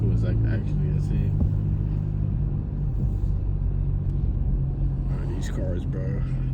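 The turbocharged engine of an Mk7 car gives off a steady low rumble that echoes through a neighborhood street, while someone talks over it at the start and again near the end.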